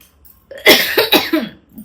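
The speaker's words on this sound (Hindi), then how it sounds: "खांसी का तो ऐसा हाल है मेरा" A short burst of several harsh coughs close to the microphone, coming in quick succession after a brief quiet start.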